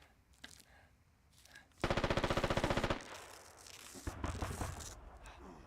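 Rapid burst of automatic gunfire in The Witcher 3, a dense run of sharp shots lasting about a second, then scattered quieter gunfire and clatter.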